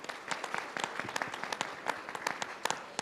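Audience at a mining event dinner applauds, a fairly thin crowd of distinct, irregular claps carrying on steadily for a few seconds at moderate distance.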